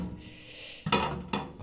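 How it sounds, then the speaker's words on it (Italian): Glass microwave turntable plate being flipped over, giving two or three sharp clinks and knocks of glass set down on a hard surface, close and brief after a quiet moment. "lo capovolgiamo in modo che il piatto non ruoti"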